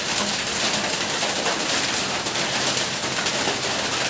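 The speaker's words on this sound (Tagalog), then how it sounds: "I hope nga hindi pa to lalong lumalakas yung ulan" Heavy rain pours down in Mindanao amid flooding near rice paddies, a loud, dense, steady hiss of water that continues without a break and without voices.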